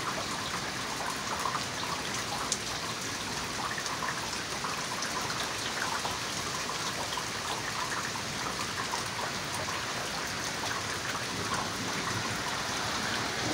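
Light rain patters steadily and evenly during a thunderstorm in Fountain Inn, South Carolina, a soft continuous hiss of drops with no talking.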